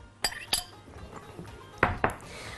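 Boiled, drained chickpeas are added to a plain mixing bowl for a roasted pepper salad, a few sharp clinks and knocks against the dish, quiet and close, with no talking.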